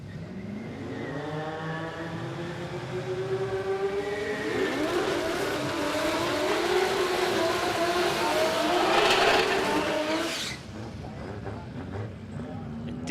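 A ute drag races down the strip at Palmyra Raceway, its engine climbing through rising gear-by-gear pitch sweeps into a loud roar before cutting off abruptly, with an announcer talking over it.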